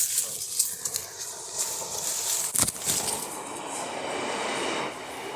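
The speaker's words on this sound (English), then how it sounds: "There is a sound train passing" A train passes on an operating main line near an abandoned freight line, a rushing rumble and rattling wash with a sharp clank midway, heard from a moderate distance outdoors.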